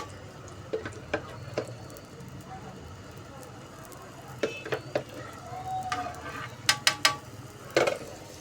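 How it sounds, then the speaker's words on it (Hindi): An aloo paratha fries in ghee on a hot tawa, giving soft steady sizzling with scattered scrapes and clicks from spreading the ghee and handling the bread with tongs. "ये देखिए इस तरीके से हम तवे पर घी लगाते जाएंगे"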